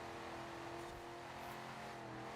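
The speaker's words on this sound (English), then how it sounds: "Really push the RPMs up this hill." A track car in a video game climbs a hill with its engine held at high revs, a faint, steady droning whine.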